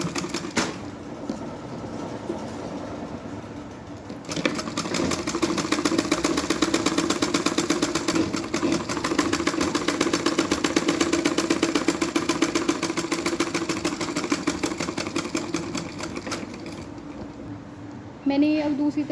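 Sewing machine stitching fabric for a skirt-style palazzo, a loud, continuous rapid rattling drone that runs almost the whole time, with brief pauses near the start and end.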